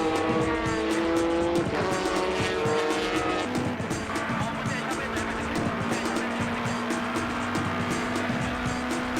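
Racing car spinning around after being bumped by a Sard Supra during a race, engine roaring with loud tire squeal and skidding, continuous and close.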